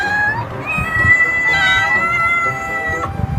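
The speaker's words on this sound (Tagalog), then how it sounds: "Pahabaan ng ngiyaw challenge muna." Cats meowing in a contest for the longest meow, with drawn-out, wavering harmonic cries that stretch across the whole moment, loud and close over a busy, noisy room.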